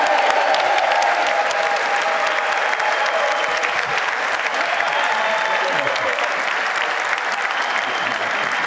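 Sustained applause from a large audience at the US State of the Union address, a dense, even roar of clapping that stays loud and steady throughout with no speech over it.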